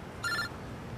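A single short electronic telephone ring chirps briefly at moderate distance, a bright warbling trill lasting a quarter second over a quiet room.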